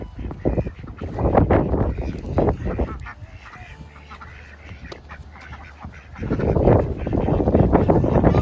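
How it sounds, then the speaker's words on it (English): Chickens and ducks gather at feeding time waiting for food scraps, with loud bursts of quacking and honking fowl calls at the start and end and a quieter stretch between. "this time of day the chickens and ducks line up waiting for Sawyer to bring scraps."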